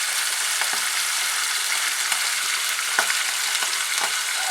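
Liver sizzles in a pan over medium heat, giving a continuous bright hiss with several soft scraping stirs scattered through it, close and steady, with no voices.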